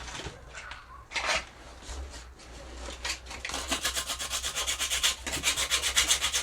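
Sanding rough, flaking spots on painted steel wheel rims, a scratchy rubbing that turns into steady, quick back-and-forth strokes. It is fairly quiet and close, with no voices.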